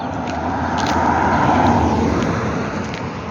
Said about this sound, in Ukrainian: Машини їдуть